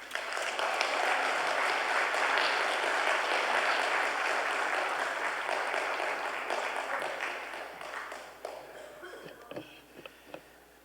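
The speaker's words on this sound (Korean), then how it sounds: "우리 박수로 환영합시다" Sustained applause from a church congregation welcoming a guest speaker at a Family Month special lecture service, dense and steady for about eight seconds before thinning into scattered claps at the end.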